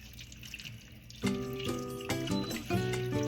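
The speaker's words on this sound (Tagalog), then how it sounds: "So lagyan na natin ng tubig." Water pours into a cooking pot of pinangat na isda, a Filipino fish stew, in a close, continuous splashing stream that starts quietly and swells louder with a couple of surges as the pot fills.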